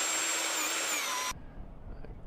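A power tool whirs loudly and steadily as it taps threads into alloy with a small 316 tap aboard a sailing boat, then cuts off abruptly, leaving a faint room hush.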